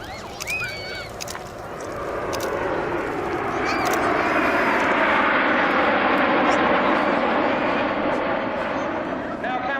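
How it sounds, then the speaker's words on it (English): A Spitfire flies past at the 2015 Southport Air Show, its engine roar swelling from faint to loud and holding steady over open-air crowd noise, with a few brief calls early on. "Ladies and gentlemen, this is Spitfire."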